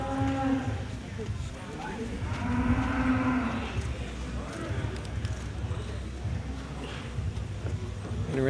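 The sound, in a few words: young Jersey cows mooing at a cattle show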